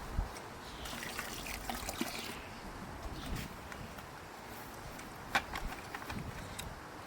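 Water poured over quail feed to make a soupy fermenting mash gives a soft, steady trickle and splash, running continuously at close range with no talk over it.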